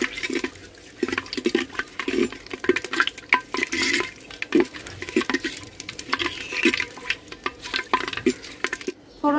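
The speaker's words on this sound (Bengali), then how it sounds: "ফোড়নটা হালকা ভাজে নিছি" Bay leaf, cardamom, cinnamon and cloves fry in hot oil, giving an uneven crackle of sharp pops and spatters at close range, with faint stirring clatter from the pan.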